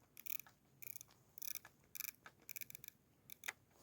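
Quiet, close clicks from a magnifier adjustment dial on an HM3X rifle scope being turned, arriving in short ratcheting bursts of several clicks each with brief pauses between.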